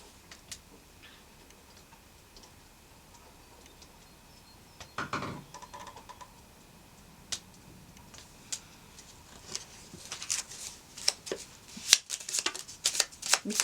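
Tarot cards being shuffled by hand, soft riffling and ticking card snaps that begin faint and grow into dense, rapid flurries of close clicks and flutters toward the end, with no talking.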